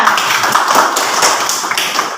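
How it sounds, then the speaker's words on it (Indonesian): A classroom of students claps for a classmate, a brief ragged patter of hands at moderate volume that fades slightly toward the end. "Tepuk tangan buat Akbar."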